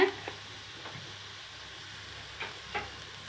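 Onions and curry leaves sauté gently in a pan with a faint, steady sizzle, broken by a few soft utensil taps and scrapes.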